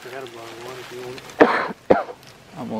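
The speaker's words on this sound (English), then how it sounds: "I got a cough." A man in the outdoors during a turkey hunt in Alabama coughs and clears his throat in two short, sharp bursts, close to the microphone, between stretches of his own talking.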